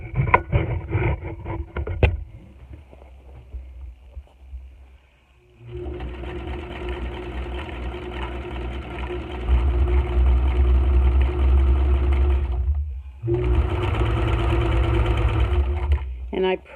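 Twin-needle stitching on a sewing machine, its steady motor whir running in two sustained bursts separated by a brief pause, loud and close, with someone talking over the machine noise.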